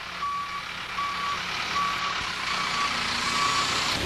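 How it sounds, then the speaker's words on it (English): A heavy equipment reversing alarm at a road utility cut beeps steadily in evenly spaced tones over a loud engine rumble, with no talking. "backup alarms for heavy equipment"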